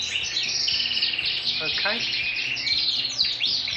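Norwich canaries in a bird room chirp and trill continuously in a busy, bright chorus, with a brief spoken word heard over the birdsong.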